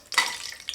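Cashew nuts fry in hot oil in a pan for mushroom pulao, giving a close, bright sizzle with a stirring scrape in the first moment.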